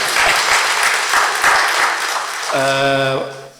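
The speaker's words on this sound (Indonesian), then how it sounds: "Tepuk tangan ya." A Catholic congregation at an opening Mass for a retreat claps in a church. Dense, fairly loud clapping runs for about two and a half seconds, then fades as a sustained voice or tone takes over.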